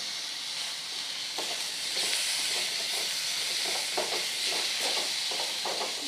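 Chopped tomatoes with onion, garlic and spices frying in a pan on a low flame for a masoor curry, a soft steady hiss with faint irregular stirring clicks.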